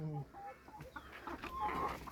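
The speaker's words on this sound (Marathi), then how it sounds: "कोंबड्या कुठं कुठं पळाल्या." Farmyard chickens at a rural home with buffaloes cluck in short, soft bursts, heard faintly at a distance across a couple of seconds, with a few brief scattered calls.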